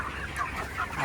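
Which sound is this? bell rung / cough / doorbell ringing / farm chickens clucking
farm chickens clucking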